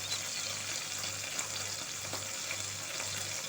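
Onion hits hot oil in a pan where chicken liver has been cooking, a continuous crackling sizzle over a faint low hum, with no talking.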